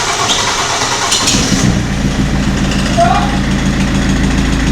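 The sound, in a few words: car engine running with crankshaft pulley making a new noise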